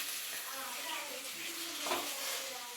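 Onions and spices for an egg roast being stirred and sautéed in a pan: a steady soft sizzle with occasional scraping from the stirring, quite close.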